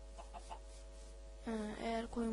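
A Minecraft chicken clucks in a few short, bright bursts near the end, briefly after a quieter stretch with faint background sounds.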